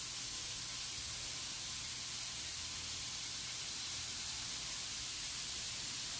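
Garden hose spraying a fine water mist over a backyard garden of cherry tree and marigolds, a steady broadband hiss that runs unbroken and fairly close for the whole stretch, with no voices.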